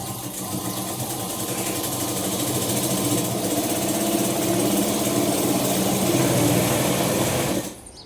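A foot-pedal motorized sewing machine stitching a blouse runs steadily at a constant speed with a dense mechanical whir, then stops abruptly near the end.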